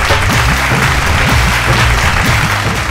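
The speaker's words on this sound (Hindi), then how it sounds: "एगो भैया जोरदार ताली सबके लिए।" Loud, dense applause from the audience at a Bhojpuri singing competition show on stage, steady clapping throughout with some low tonal sound underneath.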